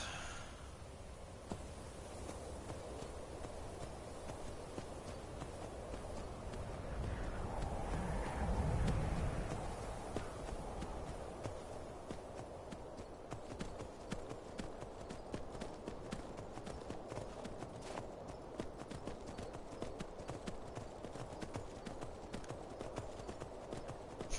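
Horse hooves clop at a steady, rapid gallop in the video game Skyrim, a continuous close rhythmic pounding over wind-like background noise.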